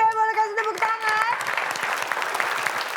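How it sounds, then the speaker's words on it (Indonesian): A game-show studio audience claps for team B, a lively burst of many hands that rises after a short musical sting and continues steadily. "100 poin tambahan untuk tim B, boleh kasih tepuk tangan."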